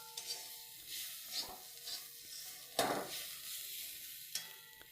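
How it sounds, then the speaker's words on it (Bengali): Softened onions fry in a pan with a faint sizzle while a utensil stirs them in a few soft, scraping strokes and light clinks. "পেঁয়াজ অনেক নরম হয়ে গেছে, অনেক ভাজা হয়ে গেছে, এখন একটু ভাজবো"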